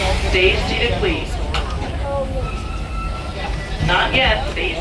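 The Walt Disney World Railroad train rolls into a station with a low continuous rumble and squealing brake tones as it slows. A voice announcement plays over the noise.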